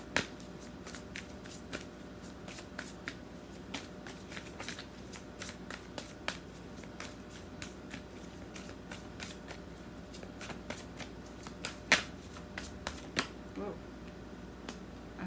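Tarot cards shuffled by hand in a quiet room, a steady run of soft papery riffles and sharp flicks for about fifteen seconds, close and fairly faint.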